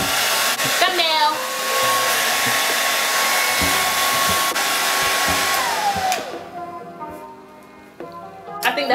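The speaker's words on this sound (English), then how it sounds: "this is the step that we're gonna actually dry the glue and tack the wig" A handheld blow dryer runs loud and close for about six seconds, drying glue while a lace frontal wig is being tacked down, with a few brief clicks and handling noises. The motor then drops away and starts up again briefly at the end.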